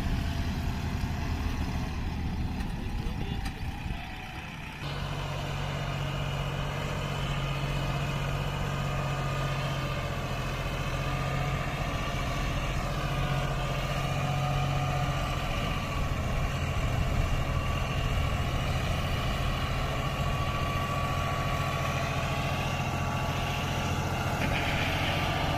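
A John Deere 5210 55 HP tractor and a Farmtrac 60 idle side by side, a steady low diesel rumble with a throbbing tone that rises in after a brief dip, continuous and close, without speech.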